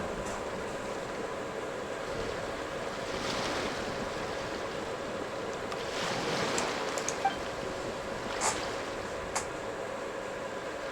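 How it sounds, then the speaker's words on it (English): Steady ocean waves wash and roll continuously, with a few swells rising louder in the middle, joined by wind noise and no voices. "Go to where you can hear the sound of the waves."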